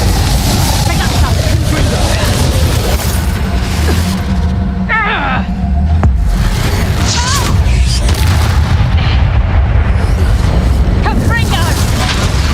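Reducto spell blasts in Hogwarts Legacy, heavy booming impacts and crashes within loud continuous game combat, with a shrill whooshing burst near the middle, under a dense mix of effects and voices.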